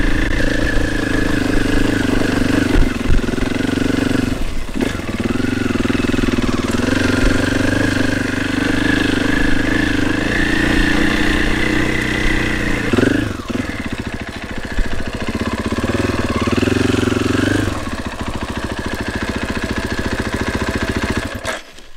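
A KTM 500 motorcycle engine drones steadily while being ridden on a track near Barcelona, rising and falling with throttle changes and brief shifts, close and loud throughout with no talk.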